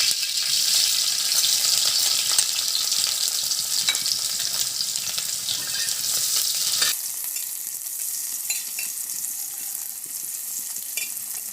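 Curry leaves and small shallots fry in hot oil for an intestine curry, giving a loud, close, hissing sizzle that drops to a quieter crackle partway through as more goes into the pan.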